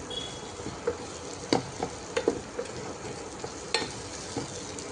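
A spoon scrapes and turns mutton egg masala with spice powders in a pan, giving scattered clinks and scrapes over a soft, steady sizzle.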